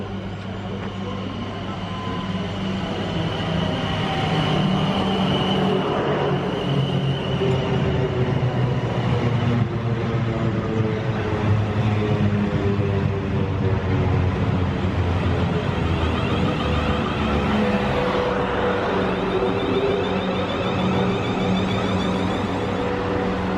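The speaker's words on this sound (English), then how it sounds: "This is a London Waterloo from Weymouth." A London Waterloo passenger train from Weymouth rumbles past Winchester in a loud, steady roar of wheels and rails, with a humming drone and shifting tones that stay strong for the whole stretch.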